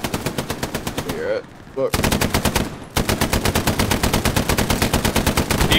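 Rapid bursts of machine gun fire in the World War II shooter Hell Let Loose, loud and close, with long rattling strings of shots and brief pauses, while a player speaks a few words between bursts.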